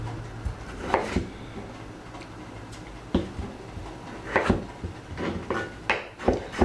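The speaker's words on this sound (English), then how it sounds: "I'm just chopping them to like this thickness." A kitchen knife chops potatoes into slices for pan frying, scattered sharp knocks on a cutting board at an uneven pace, close and moderately loud, with quiet gaps between strokes.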